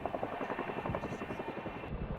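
A Chinook helicopter flying with a decommissioned Sea King helicopter slung beneath it, delivered to Stanley in the Falkland Islands; steady, rapid rotor thudding with a dense beating rhythm, fairly distant and moderate in level.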